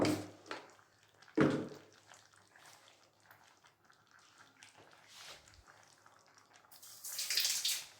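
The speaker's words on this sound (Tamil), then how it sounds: "இன்னும் கொஞ்சம் தண்ணி விட்டுக்கலாம்." Water is poured into a simmering spinach and mutton curry in a home kitchen. After scattered clinks and soft cooking sounds, a brief, close splashing pour rises near the end.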